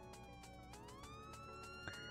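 Police car siren in the Roblox game Liberty County, a faint wailing tone sweeping up and down continuously with a short click near the end, no talk.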